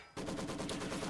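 Maxim machine guns firing in a video game, a sudden, dense stream of rapid rattling shots that starts abruptly and continues loud and unbroken to the end.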